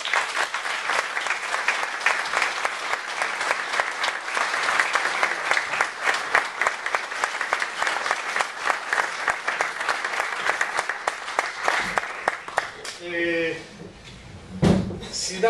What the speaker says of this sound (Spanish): y también quería darle las gracias con un aplauso.